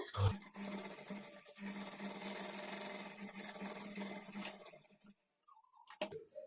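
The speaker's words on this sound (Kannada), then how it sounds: "ಈಗ ಆರ್ಮೋಲ್ ಕಡೆ ಡಾಟ್ ಸ್ಟಿಚ್ ಮಾಡಿಕೊಳ್ಬೇಕು" A sewing machine stitches a dart at the armhole of a blouse front, running in one steady, close whir for about five seconds before stopping, followed by a few faint clicks.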